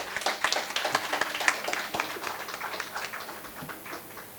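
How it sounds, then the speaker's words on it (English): Applause at a stroke medicine conference for the case participants: a modest crowd's scattered claps, louder at first and thinning out as it fades. "give all the participants a lot of claps"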